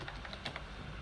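A short burst of rapid keystrokes on a computer keyboard as a Python command is typed into a terminal, close and clear with no talking.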